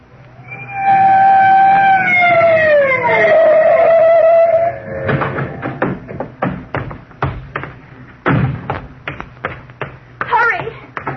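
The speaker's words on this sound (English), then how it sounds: "was the night Bill Krug of Homicide let me work the siren on the police car" A police car siren sound effect for a radio drama wails loudly in rising and falling sweeps, then gives way to a run of sharp knocks and thumps.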